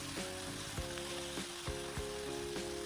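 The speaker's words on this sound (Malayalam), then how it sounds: "അതിലേക്ക് മാവൊഴിച്ച് ചൂടായ എണ്ണയിലേക്ക് ഇങ്ങനെ തേച്ച് തേച്ച് പരത്തി പരത്തി കൊടുക്കണം" Manoharam batter, a Palakkad snack, spread with a spoon into hot oil and frying with a steady close sizzle, broken by occasional soft scraping strokes.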